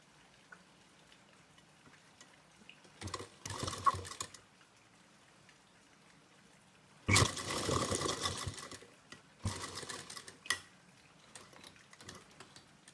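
Sewing machine stitching a baby skirt and blouse, heard in several short bursts of rapid mechanical chatter separated by quiet pauses, the longest run lasting about two seconds.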